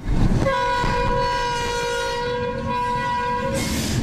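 A long freight train horn blasts loudly and steadily for about three seconds over rumbling rail noise as a Mexican freight train known as the Beast approaches the southern pueblo of Ixtepec, heading north.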